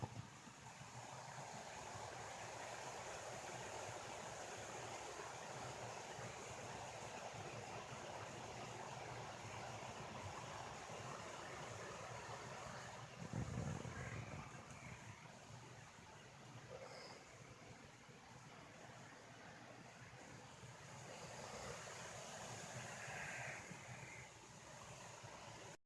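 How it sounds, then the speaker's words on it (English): A distant waterfall at a remote California gold prospecting camp rushes in the background as a faint, steady wash, with a brief louder knock midway and no talk. "Maybe you can hear the waterfall."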